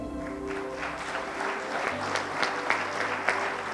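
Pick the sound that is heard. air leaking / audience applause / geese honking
audience applause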